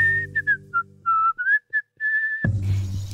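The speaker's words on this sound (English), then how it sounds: "I hear a zookeeper whistling in my ear." A zookeeper whistling as an animated read-aloud sound effect: a run of short, clear whistled notes with brief gaps between them, ending in a sudden burst of noisy sound.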